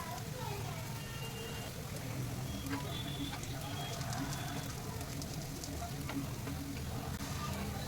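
Potato patty sizzling on a hot pan, a steady faint crackle and hiss of searing throughout, with speech in the background.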